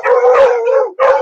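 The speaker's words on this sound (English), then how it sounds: "Sheer terror as a pack of pit bulls attack a couple on their patio." A pack of pit bulls howls loudly in one long sustained cry that breaks off and then starts again, heard close with no voices over it.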